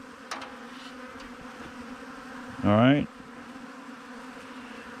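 A single honey bee buzzes near a beehive, one short, loud, close buzz lasting about half a second over a faint hum of background activity, with someone briefly speaking earlier.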